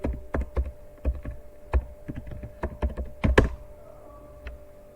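Typing on a computer keyboard, a run of distinct close key taps and thunks in an uneven rhythm with a small burst near the end, then quiet; no talking.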